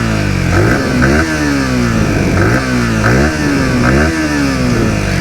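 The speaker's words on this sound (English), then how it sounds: "A deep throaty exhaust," A Yamaha MT15 V2 motorcycle exhaust revving up close, loud repeated throttle blips rising and falling in a steady rhythm with a deep throaty tone and no talk.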